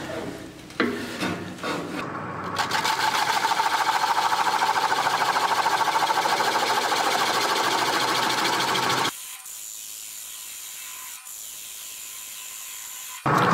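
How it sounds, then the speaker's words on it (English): A 1/4 inch swept-back bowl gouge cuts the bottom off a butternut bowl spinning on a lathe, a steady, raspy scraping whir for several seconds before the cut stops and a quieter motor hum remains. "we'll turn the bottom off this."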